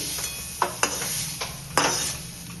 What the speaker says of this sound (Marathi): कच्चेपणा जाईपर्यंत टोमॅटोला परतून घ्यायचा